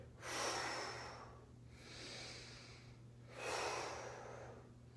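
Slow, deep breaths during a yoga pose, with three long airy inhale-exhale swells spaced evenly and close to the mic over a steady low hum, no talking.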